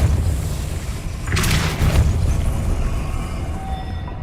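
A Depulso force spell cast in Hogwarts Legacy lands as a single deep, booming burst with a rushing blast that rises and fades over about half a second, set against a steady low ambient rumble.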